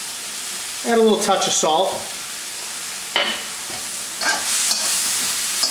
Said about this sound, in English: Just gonna saute that for a few minutes. Let the flavor come out of the mushrooms and the bamboo shoots.